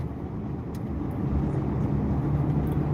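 A car drives nearby in traffic, giving a steady, close, low road-and-engine rumble that swells slightly with no distinct passes or horns.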